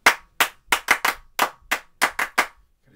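Hands clap close and sharp, about ten crisp claps in a loose, slightly uneven beat, each with a short room echo, and no talking over them.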